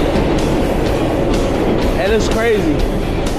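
Loud interior rumble of a moving New York 7 subway train, steady roaring rattle with faint clicks throughout, while someone talks over it.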